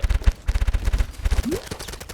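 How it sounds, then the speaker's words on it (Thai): Rapid bursts of automatic gunfire in a video game, loud and close, with quick repeated shots and brief gaps between volleys, plus a short rising electronic tone. "โอเคเสียงปืนอาจจะไม่หนักหน่วงครับ"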